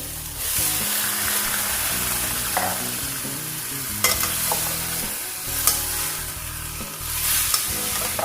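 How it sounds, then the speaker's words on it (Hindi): Boiled chickpeas tossed and stirred in a hot pan with tomatoes for a Bihari chana chaat, with steady sizzling and frying throughout and scraping stir strokes, a few louder clinks of the spoon against the pan, no talking. "मैं इसमें शामिल कर दूँगी चने"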